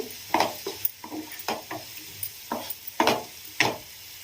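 Onion and green chillies fry with turmeric in a pan, a soft sizzle broken by roughly eight sharp scraping strokes of a spoon stirring at an uneven rhythm, close and alone.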